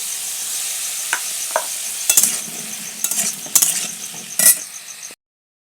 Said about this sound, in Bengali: এবার কিন্তু এই আলুগুলোকে আমি খুব সুন্দরভাবে লাল লাল করে ভেজে নেব।